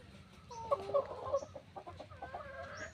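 Several chickens cluck and squawk inside a coop, their calls close and fairly quiet, rising in quick bursts over a low background of rustling.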